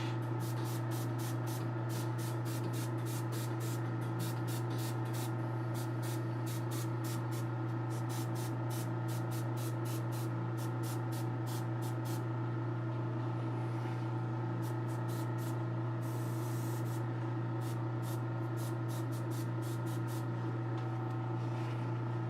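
An airbrush hisses steadily while spraying paint onto a figure, a continuous close airy hiss with rapid fluttering pulses over a low hum, no talking.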